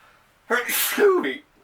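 A single loud, sharp sneeze bursts out abruptly close to the microphone, lasting about a second, with quiet before and after.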